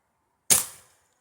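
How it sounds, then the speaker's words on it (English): A single sharp crack from a Benjamin air rifle firing a piranha pellet, close and loud, with a brief decaying tail in otherwise silent surroundings. "And the last shot for the piranhas."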